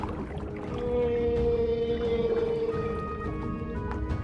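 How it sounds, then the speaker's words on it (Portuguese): A whale calls at 52 Hz in the open ocean, a long, low, moaning tone that swells and fades over a few seconds against a faint watery background. "esta baleia emite a sua chamada a 52 Hz"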